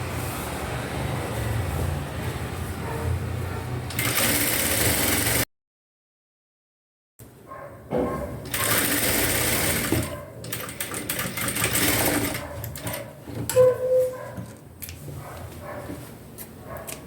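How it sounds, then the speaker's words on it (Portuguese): Sewing machine stitching a half-centimetre side seam on a dress, running in short bursts with a break of silence midway, the motor whirring close and loud between pauses. "vai passar uma costura de meio centímetro aqui na lateral"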